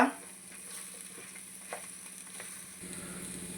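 Raw banana pieces stirred into a spice mix frying in a pan, giving a soft, low sizzle with faint scrapes of stirring close by.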